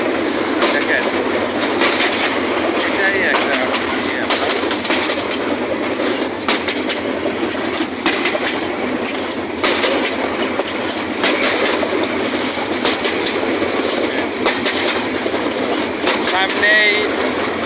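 A train rumbles steadily along the rails with rhythmic clacking of wheels over joints, heard from onboard, loud and continuous with voices talking underneath.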